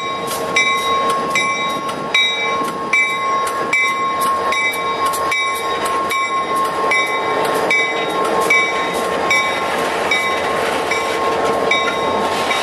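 An SD40-3 diesel locomotive leads an ore train past at close range, its turbocharger roaring steadily over the rhythmic clatter of the wagons, loud and continuous throughout.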